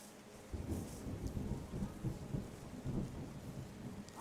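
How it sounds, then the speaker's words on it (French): Steady rain with rolling thunder in the relaxing ecological video game Terra Nil, a soft hiss rising to a fuller wash after the first half second, with low rumbles swelling throughout and no voices. "regardez, il commence à pleuvoir"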